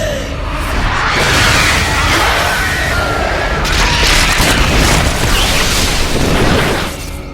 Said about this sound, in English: The bomb goes off.